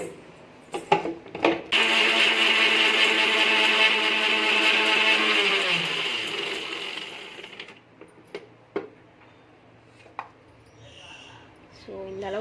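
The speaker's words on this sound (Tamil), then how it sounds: "இப்போ நம்ம இதை அரைச்சி எடுக்க போகிறோம்" A kitchen mixer grinder whirs loudly for several seconds grinding garlic into a paste, its motor winding down and stopping, framed by clattering and knocks of the jar before and after.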